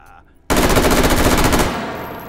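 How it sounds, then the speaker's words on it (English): A rapid burst of rifle fire from an Mk18 or M16A4 in the VR shooter H3VR, loud and close, lasting about a second after a quiet start, with a short ringing tail. "Think I'm shooting a little low."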